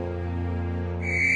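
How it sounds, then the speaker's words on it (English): Steam engine whistle in the Trainz railway game: a steady low engine hum runs throughout, then a bright, high whistle blast comes in sharply during the final half second. "Just then the whistle blew, and James thought they had better go."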